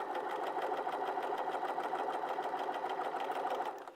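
A sewing machine stitches piping onto fabric, a fast, even mechanical chatter of needle strokes running continuously up close before easing off at the end.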